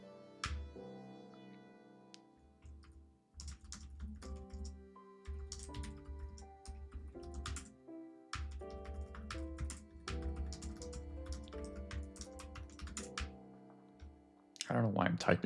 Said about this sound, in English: I don't know why I'm typing too.